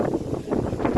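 Strong stormy wind gusts roar steadily and close, buffeting loudly through the whole moment with surging waves of rushing noise while green coconuts are being picked, with no voices.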